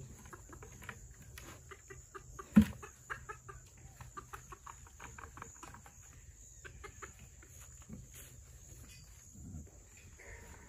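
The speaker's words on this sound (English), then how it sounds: "A little bantam rooster." A bantam rooster and hens on a homestead give soft, scattered clucks and short calls throughout. A thump sounds early on, with faint footsteps and quiet rustling around them.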